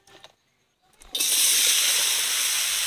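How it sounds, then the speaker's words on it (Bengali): Mustard oil hisses and sizzles loudly in a wok over a kitchen fire for frying beets, a steady close hiss starting abruptly after a quiet moment with a few faint clinks. "বিটকপিগুলো ভাজার জন্য কড়াইতে সর্ষের তেল দিয়ে দিলাম"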